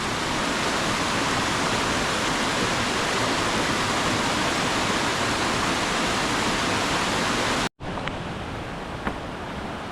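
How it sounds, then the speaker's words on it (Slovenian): A large Slovenian waterfall running with heavy water roars as a loud, steady, broadband rush, cuts out briefly near the end, then resumes slightly quieter. "Res neverjeten slap."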